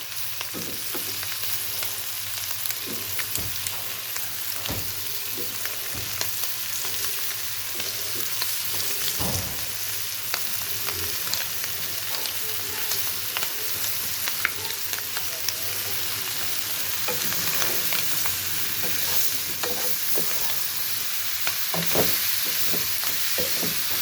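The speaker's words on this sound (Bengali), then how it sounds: "টমেটো আসলে একটু চিংড়ি মাছ দিয়ে এভাবে ভাজি" Green tomatoes frying with shrimp in a pan, a steady close sizzle and hiss running throughout with occasional scrapes and clinks of stirring, no talking.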